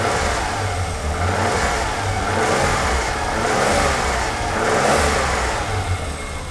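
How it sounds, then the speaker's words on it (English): A BMW E21 323i engine revs in slow repeating swells, loud and close, with a raspy, puffing exhaust leak chuffing over the low rumble. "there's a massive exhaust leak somewhere"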